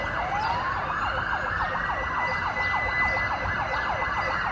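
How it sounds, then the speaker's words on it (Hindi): A wailing emergency siren sweeps up and down in steady repeated cycles, loud and continuous, with a faint hum of traffic underneath. "तो यहाँ पे सायरन की आवाज़ बहुत ज़्यादा होती है"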